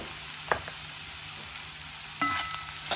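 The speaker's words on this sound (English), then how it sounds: "After 10 minutes, the potatoes will fry well." Potatoes fry in a pan seasoned with mirchi powder, giving a faint, steady sizzle with a few soft clinks and stirring scrapes here and there.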